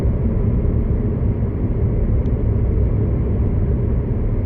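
A brand new car is driven along a road, its engine and tyre rumble a steady, loud, close drone throughout with no talking.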